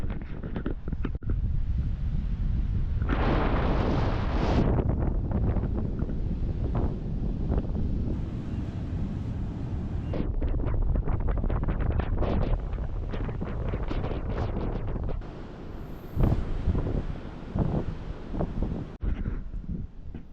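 Cold, gusty coastal breeze buffeting the microphone on a walk near the sea, a loud continuous low rumble that swells and drops in gusts, with brief quieter gaps.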